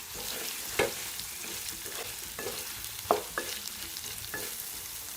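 Potatoes and sprats frying in oil in a pan, with a spoon stirring them; a steady sizzle runs throughout, broken by several sharp scraping and clinking strokes at irregular intervals.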